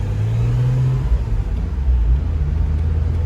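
A car drives through Westminster, London, giving a steady low engine rumble and road noise throughout, close and fairly loud, with no voices.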